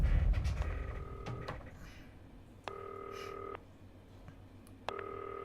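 A telephone in the video game Not For Broadcast rings in three evenly spaced electronic trills, each about a second long, fairly quiet against a low background hum.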